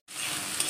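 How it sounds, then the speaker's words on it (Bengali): Pumpkin pieces hitting hot oil tempered with dried red chilli and garlic, a sudden sizzle that starts sharply and holds as a steady loud frying hiss. "শুকনো লঙ্কা আর রসুন ফোড়ন দিয়ে কুমড়োটা দিয়ে দিলাম"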